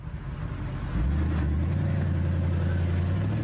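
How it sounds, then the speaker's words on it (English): A BMW 645Ci engine runs at a steady drone that deepens and strengthens after the first second, holding a constant low hum with no voices. "The sound of the car needs to be recorded"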